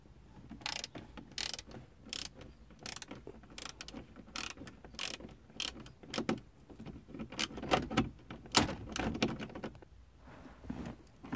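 A ratchet fitted with a 7mm socket on an adapter loosens the factory radio bolts in a 2006 Chevy HHR dash, giving repeated short bursts of clicking in an uneven rhythm, fairly quiet and close, with no talking.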